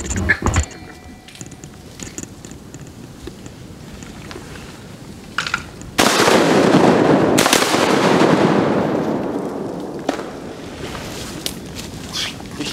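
A shotgun blast during a duck hunt in bitterly cold weather, about minus 15 degrees, in Arkansas: one loud sharp report followed by a long rumbling echo that slowly fades, with a few quieter clicks and handling noises before it.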